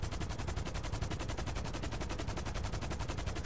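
Gunfire in GTA 5 Online: a fast, continuous stream of automatic shots in an even, rapid rhythm. It stays loud and steady for several seconds with nothing else above it.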